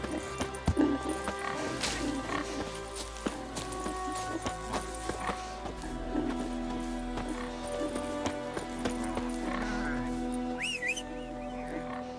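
Roach, Geralt's horse in The Witcher 3, clip-clops at a gallop in a steady hoof rhythm, with a short whinny, layered over game music and ambient sound, while a voice speaks briefly.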